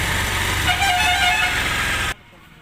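Bajaj Pulsar motorcycle with an over-revving fault races at high, steady revs with a harsh buzzing whine, close and loud, then cuts off abruptly near the end.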